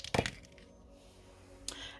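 Two sharp clattering bursts about a second and a half apart, like dice tossed onto a hard surface, with quiet room sound between.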